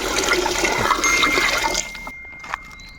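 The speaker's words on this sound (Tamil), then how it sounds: "தேவையான அளவு தண்ணி ஊற்றிக்கிடலாம்" A steady gush of water pours noisily into a pot for about two seconds, then cuts off, leaving faint drips and a light clink.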